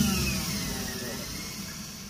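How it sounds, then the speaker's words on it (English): Steady, close whirring hum of an electric motor fitted to a sailboat in place of its diesel engine, with noisy bearings adding a constant broadband rattle throughout. "As you can hear, when the camera's close, the bearings are loud"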